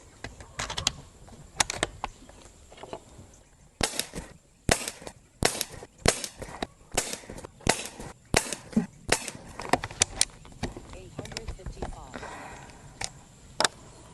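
A .25 caliber Umarex Gauntlet 2 airgun fires a long series of sharp, crisp shots at an irregular pace, fairly close, with quiet handling noises between shots.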